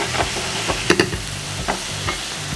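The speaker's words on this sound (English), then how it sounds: "Keeping it moving, cooking those prawns out." King prawns and cherry tomatoes sizzling in a pan with white wine, stirred briskly so spoon scrapes and clacks punctuate a constant close fry.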